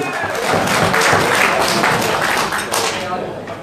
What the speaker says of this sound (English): Give an applause, everybody